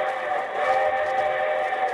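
A sustained, tonal train whistle sounds steadily for a couple of seconds, loud and unbroken, with no talking.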